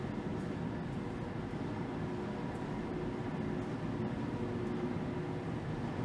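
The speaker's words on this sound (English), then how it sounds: "The Up Express train is rolling out," An UP Express train rolling out in downtown Toronto, a steady broadband rumble and rush of wheels and engine heard from a distance, continuous and even across the whole stretch.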